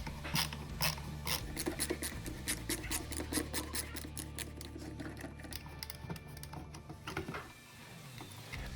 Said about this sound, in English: so we'll ratchet it